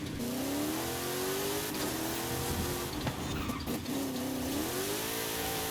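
A car engine revving in Forza Horizon 5, a loud continuous drone that rises and dips in pitch as the throttle changes, with a faint tyre skid partway through.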